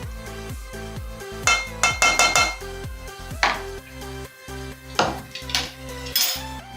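A spoon scrapes and clinks against a bowl and pan while white and brown vanilla batter is layered for a stovetop zebra cake. Short, sharp, irregular clatters sit close over steady background music.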